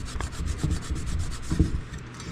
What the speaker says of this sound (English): Go over this with the alcohol prep pads.